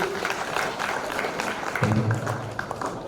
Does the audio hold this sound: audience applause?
yes